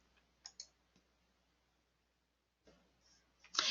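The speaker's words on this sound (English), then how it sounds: "you'll click the big black X" A few quiet, sharp computer mouse clicks spaced out over near silence, with a louder burst of clicks at the end, while closing a payroll check entry with the big black X.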